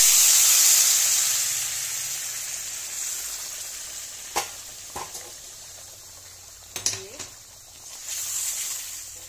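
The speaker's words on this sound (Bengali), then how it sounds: "গরম জল করে রেখেছি, গরম জলটা একটু দিয়ে দেবো।" Hot water hits a pan of frying egg curry masala with a loud, bright sizzling hiss that gradually fades, followed by a few sharp clinks and spatters and a renewed surge of hissing near the end.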